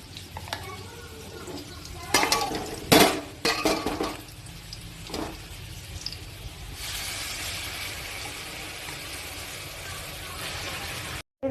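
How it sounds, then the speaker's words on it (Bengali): Raw pointed gourd paste fries with onions in a pan: spoon scrapes and clinks as it is stirred, then a steady, soft sizzle carries on alone through the second half. "পটলের পুরো পেস্টটাকে আমি ঢেলে দিয়েছি পেঁয়াজটার মধ্যে এবার এটাকে ভালো করে ফ্রাই করতে হবে"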